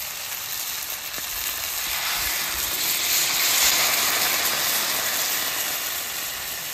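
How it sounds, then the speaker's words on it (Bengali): Country chicken curry sizzles and fries steadily in a pan, with a soft hissing burst of steam swelling in the middle as water is poured in, then settling back to an even sizzle; no one speaks. "এবার জল দিয়ে দেবো।"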